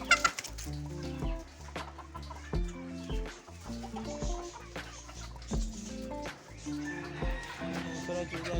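Chickens and chicks cluck and peep continuously while feeding in a farmyard, with a close, busy, overlapping chorus of calls and soft background activity.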